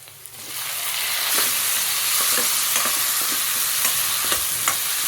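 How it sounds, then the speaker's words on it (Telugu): Tomato pieces fry with onion, green chilli and ginger in a pan for borugula upma, a loud continuous hiss broken by repeated scraping clicks of a spoon stirring. "కొంచెం వేగినాక ఇప్పుడు టమాటా ముక్కలు కూడా వేసుకోవాలి"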